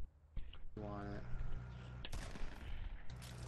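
Gunfire in Fortnite: several sharp bursts of shots cracking out in quick succession, one near volley followed by further rattling fire, with a voice speaking over part of it.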